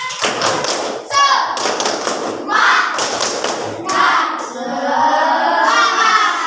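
A class of schoolchildren doing a rhythmic spirit clap, bursts of loud group clapping and hand-slapping in a patterned beat, mixed with children's chanting and shouting voices.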